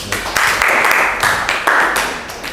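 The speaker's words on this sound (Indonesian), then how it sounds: "Tepuk tangan dulu." A classroom group applauding, with steady clapping that swells and dips over a couple of seconds, close and fairly loud.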